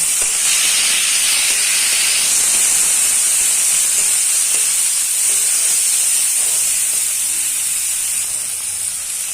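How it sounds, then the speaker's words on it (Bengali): Prawns dropped into hot oil in a home kitchen pan, sizzling with a continuous, bright hiss and crackle that stays loud and even throughout. "তেল দিয়ে দিলাম, এর মধ্যে চিংড়ি দিয়ে দিলাম"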